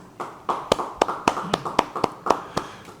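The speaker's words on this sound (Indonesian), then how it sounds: "Yang percaya beri tepuk tangan bagi dia." A church congregation at a Bible study claps hands together in a loose, fairly regular rhythm, about a dozen sharp claps over three seconds, close and distinct against a quiet room.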